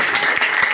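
Church congregation applauding, a dense, steady wash of many hands clapping together with no pauses.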